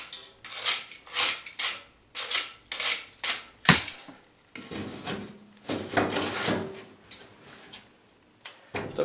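A hand rasp trims the edge of a drywall sheet for an under-bathtub panel, a series of rhythmic close scraping strokes with short pauses between them.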